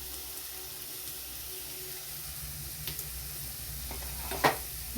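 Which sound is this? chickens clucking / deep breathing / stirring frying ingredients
stirring frying ingredients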